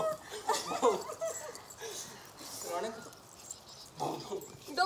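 A person imitates a dog with short yelps and whimpering bursts, mixed with laughter and chatter from others nearby.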